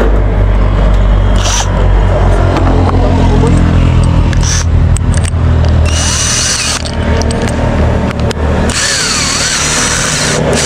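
A power grinder cuts during a home renovation on a terrace roofing project, a loud, continuous, gritty whine close by that shifts in pitch and load as it bites, running throughout.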